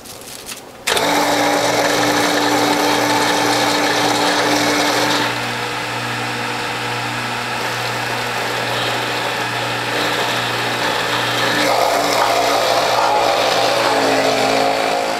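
A front-loading juicer grinding carrots, a loud steady motor whine and drone starting abruptly and running continuously, with grinding texture shifting as carrot pieces are fed in, close up.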